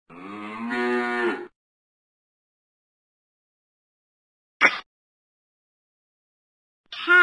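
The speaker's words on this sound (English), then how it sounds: "Cow." A cow moos once, loud and close, a drawn-out low call lasting over a second; a short sharp click follows a few seconds later and another burst starts at the very end.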